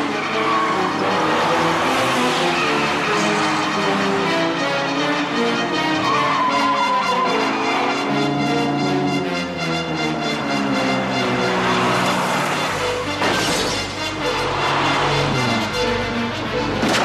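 Car speeding through a police chase with squealing tires, engine roar and skidding filling the scene loudly and continuously alongside a dramatic music score.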